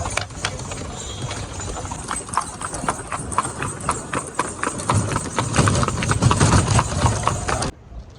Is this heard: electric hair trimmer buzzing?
no